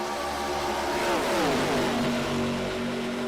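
ARCA Series race cars circle the oval at Auto Club Speedway in the iRacing video game, a loud blended roar of engines whose pitch sweeps down as the pack passes.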